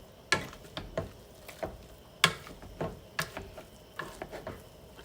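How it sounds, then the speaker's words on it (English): Potatoes are mashed with sliced butter in a pot, producing irregular soft thumps and squelchy scrapes of the masher at close range, a dozen or so uneven strokes over quiet background. "And you mash these taters down"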